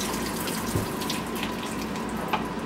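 Warm water runs steadily from a kitchen tap into a tomato paste can, a constant close splashing hiss with no talking over it.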